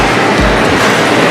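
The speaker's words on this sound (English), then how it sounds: "you get to see the monorail coming like every 2 minutes" Disney monorail train passing close by at a resort, a loud continuous rushing rumble with a low thump early on.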